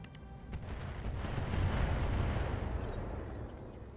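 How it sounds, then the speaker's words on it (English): Rumbling weapon fire from machine guns and flamethrowers in a tactical strategy video game, a continuous dense roar with low booming swelling in the middle before easing off, with no voices over it. "Just machine guns and flamers."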